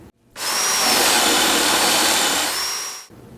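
Power drill boring a hole through metal, roughly 5/16 inch, for a switch mount on an industrial cylinder-arm sewing machine build; one loud, continuous high-pitched whir lasting about three seconds, starting and stopping abruptly.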